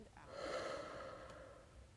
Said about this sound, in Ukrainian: Ми будемо вдихати носом, а видихати ротом.